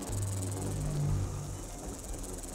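A buzzing insect creature in the video game Fallout 4 gives a steady, faint chirring drone with a sustained low hum underneath, alone without speech.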